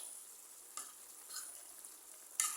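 Soft, steady sizzle of dried lotia fish curry with yardlong beans cooking in a pan, faint and continuous, with a few brief louder stirring scrapes.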